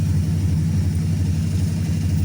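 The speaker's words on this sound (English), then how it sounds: "it's sounding very good right now, so I'm happy to report. I think it's a healthy engine" A healthy Ford 302 V8 idles in a 1988 Ford Ranger with a steady, loud, close-up low rumble and an even pulsing beat throughout, and no one speaks.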